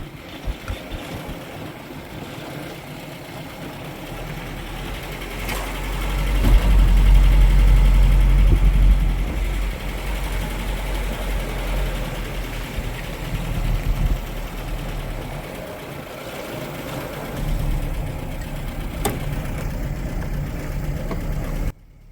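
A restored 1969 Citroën DS 21 cabriolet idles steadily nearby, its engine swelling louder for a few seconds as it revs, then settling back to a low even rumble.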